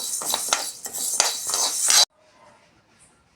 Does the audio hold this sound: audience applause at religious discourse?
no